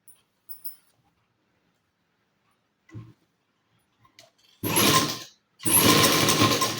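Sewing machine stitching the shoulder joint of a blouse, a few faint mechanical ticks at first, then two loud bursts of rapid whirring stitching close by, about a second apart.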